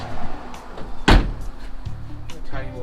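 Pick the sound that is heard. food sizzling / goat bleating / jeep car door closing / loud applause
jeep car door closing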